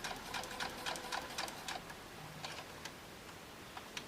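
A sewing machine stitches fabric along a drawn line for a quilted strippy star ornament, giving a faint, even run of rapid ticking needle strokes.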